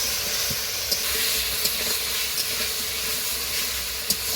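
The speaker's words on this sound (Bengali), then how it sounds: "এবার দিয়ে দেবো সেদ্ধ করে রাখা আলু আর ভেজে রাখা ডিম। মশলার সাথে ভালোভাবে কষিয়ে নেব।" Boiled potatoes and fried eggs sizzle in a pan with spices, a steady hiss with occasional soft stirring clicks, heard close and alone.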